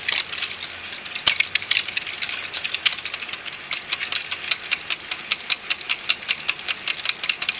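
A sling psychrometer with two thermometers whirled around by hand gives a steady, fast run of sharp rattling ticks, close and fairly loud, with no talk over it.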